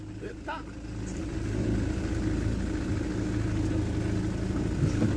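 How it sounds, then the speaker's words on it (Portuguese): A company truck's engine rumbles steadily, growing a little louder after the first second and holding a low, continuous drone throughout. "esse é um dos caminhões da empresa"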